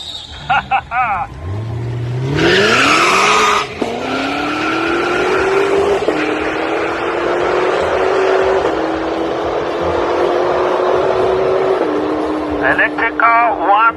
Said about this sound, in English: the electric drag race is about to begin